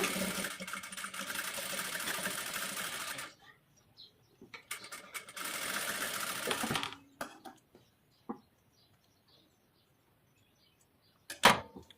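A sewing machine runs in two steady bursts of rapid stitching, double-stitching the back part of a blouse, with a short pause between bursts and faint handling clicks afterward.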